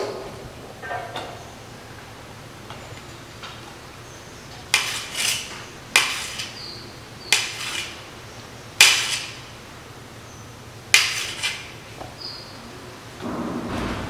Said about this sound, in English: This is cutting of the idlis, and then we're putting it inside.